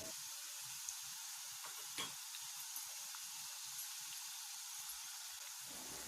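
Bitter gourd pieces fry in oil, village style, with a steady, close, bright sizzle that holds throughout alongside a few soft stirring sounds.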